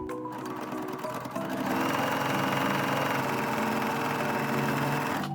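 A sewing machine runs steadily as it stitches a fabric sample 1.5 cm from the edge, a loud continuous mechanical whir that speeds up after a brief start.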